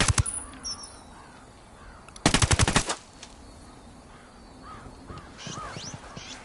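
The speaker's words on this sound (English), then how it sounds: "He spotted one with submachine guns" Rapid submachine gun fire from the Ghost Recon Wildlands video game, one loud burst of about half a second among scattered shots and ambient game noise, with a few short earlier pops.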